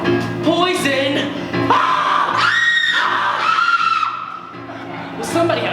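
A woman screams in a loud, sustained, rising shriek during a staged Clue murder-mystery play by students, with overlapping yells and shouts from other performers around it.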